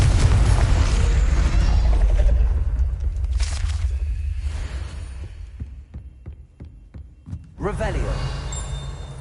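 A Confringo blasting spell explosion in Hogwarts Legacy on PS5 gives a loud, deep boom with a rumbling low tail. Game sounds and crackles follow at moderate level.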